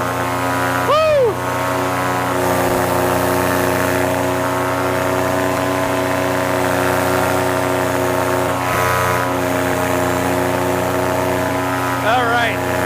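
Paramotor engine and propeller in low flight through bumpy thermal air, a loud steady droning hum with strong harmonics running throughout, a few brief whooshes or whistles rising over it.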